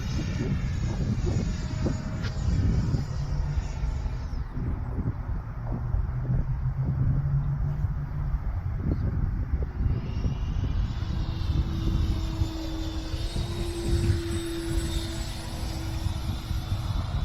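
An FMS Futura 64mm electric ducted fan model jet flies overhead, its steady whooshing turbine whine holding loud and continuous throughout, with pitch shifts as it passes and climbs again.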